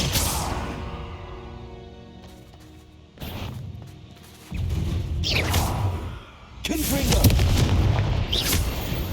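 Confringo fire spell blasts in the Hogwarts Legacy video game, several loud booming explosions with crashing impacts in quick succession, mixed with game sound.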